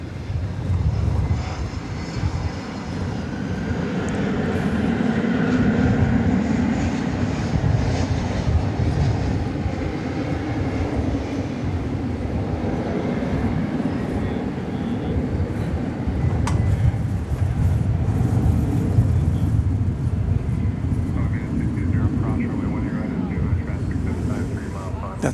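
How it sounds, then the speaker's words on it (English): An Airbus A321 airliner on American flight 2036 at DFW Airport gives a sustained low jet engine rumble that swells and fades slightly, with people talking over it. "That's an Airbus A321."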